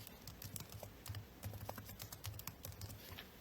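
Rapid typing on a computer keyboard while composing an email, a continuous stream of soft, close key clicks with no talk over it.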